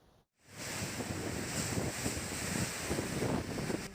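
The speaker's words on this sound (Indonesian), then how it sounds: "Hujan deras dan angin kencang menerjang kawasan Sidoarjo Utara, Jawa Timur." Heavy rain and strong wind storm lashing a food court area in North Sidoarjo, East Java, a dense continuous roar of wind and rain noise buffeting the microphone, steady and loud after a brief dropout at the start.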